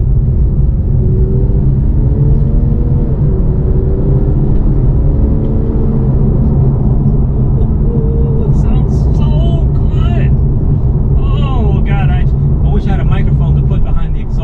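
A Porsche 911 with a Fister exhaust, heard from inside the cabin: a deep engine rumble rises in pitch as the car accelerates, loud and continuous, with a voice speaking partway through.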